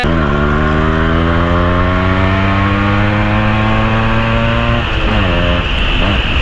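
A Yamaha RX135 two-stroke motorcycle engine revs up in a steady, rising whine that holds loud and close, then dips and climbs again near the end.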